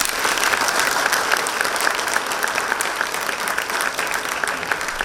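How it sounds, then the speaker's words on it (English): An audience at a sustainability conference for the textile and apparel industry welcomes the chief guest with a full, steady round of applause that carries on for the whole stretch. "please join me in welcoming our chief guest for the day with a huge round of applause"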